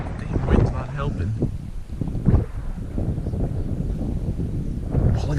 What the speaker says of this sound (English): wind's not helping.